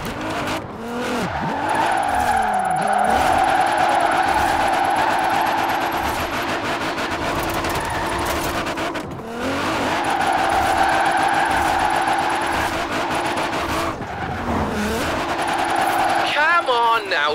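A car drifts with the e-brake in Forza Horizon 4: the engine revs up and holds a loud, steady note while the tires squeal through long slides, broken by short lifts and gear changes, with a voice talking over it.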